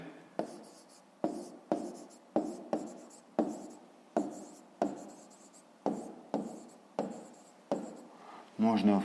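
A pen writing numbers into a cell on paper, about a dozen short scratchy strokes in a steady rhythm, close and quiet, with a brief voice at the very end.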